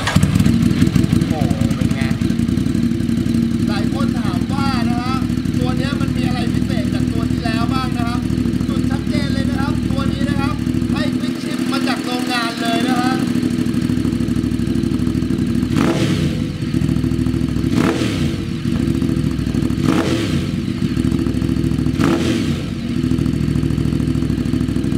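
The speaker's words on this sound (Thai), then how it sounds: "เรามาฟังเสียงเครื่องยนต์กับเสียงท่อกันเลยดีกว่านะฮะ" A 2018 Ducati Monster 821 engine runs loudly and close through its exhaust, idling with a rough throb and then revving in several sharp bursts toward the end.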